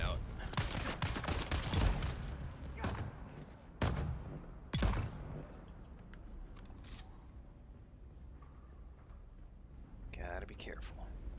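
Turret gunfire in the video game Dune: Awakening, rapid clusters of sharp shots early on, then a few isolated cracks, with quiet whispered speech and mechanical clicks underneath.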